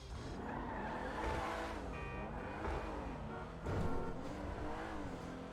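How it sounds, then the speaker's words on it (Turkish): A loud car engine in the video game GTA 5 Online drones and revs continuously, its pitch rising and falling as it accelerates, with a brief tire-squeal burst near the end. "Exhaust sesi bu arada çok mükemmelmiş."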